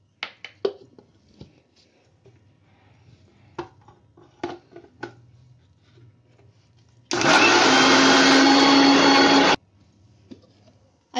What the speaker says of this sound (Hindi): सबसे पहले इसको और चीनी को ग्राइंड कर लेते हैं।